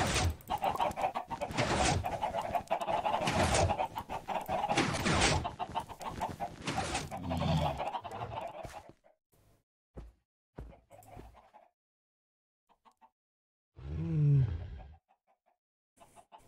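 Chickens in Minecraft, part of a modded flock of sixteen, cluck and squawk in quick bursts, dense at first and then sparser with gaps, one louder call near the end.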